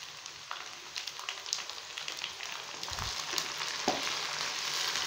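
Tomatoes hit a pan of lightly golden-browned onions for a desi chicken karahi, giving a steady, fairly quiet sizzle that swells slightly, with a few soft stirring clinks, no talking.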